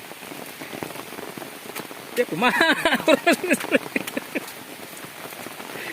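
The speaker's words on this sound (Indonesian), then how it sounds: "Jeung hujan deui." Rain patters steadily on an umbrella during a mountain hike on Anak Cakrabuana, a dense drumming that runs throughout while people talk loudly over it in the middle.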